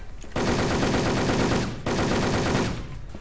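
Video game gunfire in Wolfteam: two long, loud, rapid-fire automatic bursts close by, separated by a brief pause, with a faint roomy tail after each.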